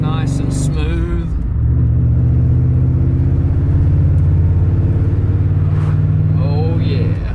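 A muscle truck fitted with Holley Sniper EFI drives along, its engine a steady, loud, smooth low rumble close by that holds evenly throughout, with someone talking over it.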